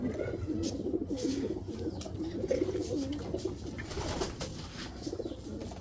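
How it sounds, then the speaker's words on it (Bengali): Soft, rolling coos of racing pigeons in a loft repeat through the clip at moderate distance, with a few faint clicks and rustles around them. "এই কবুতরটা"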